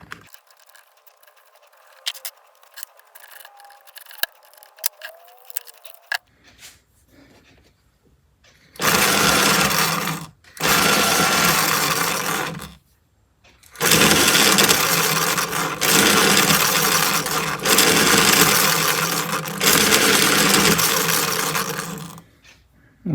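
A Panasonic electric pencil sharpener grinds in loud bursts after some faint handling clicks, first two short runs and then a longer sustained whirring grind, close and alone.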